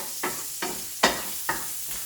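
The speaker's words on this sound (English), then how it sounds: "you want this to kind of just to render down until basically you're not getting that sizzle anymore" Bacon renders its fat in a pan, with a soft steady sizzle broken by four or five stirring scrapes at a slow even rhythm, close and fairly quiet with no talking.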